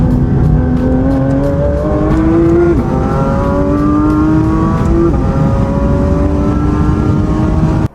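Porsche 911 Targa GTS with a manual gearbox revving hard on the road, its engine note climbing steadily through the gears with brief dips at each shift, loud and continuous with no talking.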